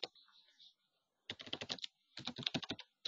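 Quick bursts of key presses on a computer keyboard, two close rapid runs of typing separated by a quiet pause, with faint background hiss.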